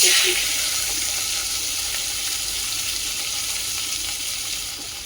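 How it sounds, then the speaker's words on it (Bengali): Capsicum fries with asafoetida in a pan, giving a loud, continuous hiss and sizzle heard close by that eases off slightly over the few seconds. "এটাকে একটু ভেজে নিতে হবে হালকা ভেজে নিতে হবে সিমলা মির্চিটা"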